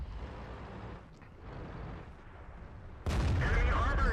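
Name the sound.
tank cannon shot in the video game World of Tanks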